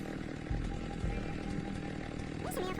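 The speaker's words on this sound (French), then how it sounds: "Et on fait vraiment le poulet à la tronçonneuse là?" A chainsaw from a zombie video game revs in loud, steady bursts that surge twice, with voices talking over the engine noise and a brief higher tone near the end.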